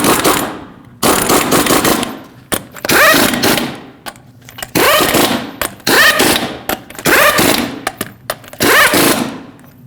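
An impact wrench spins the wheel lug nuts onto a 2015-2020 GMC Yukon in a series of loud, rapid rattling bursts, about six in a row separated by brief pauses.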